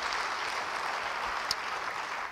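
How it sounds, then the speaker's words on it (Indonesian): A church congregation breaks into applause during a sermon, a soft, continuous wash of many hands clapping, fairly distant and even, with one brief sharper clap standing out and no talk over it. "Beri tepuk tangan bagi dia."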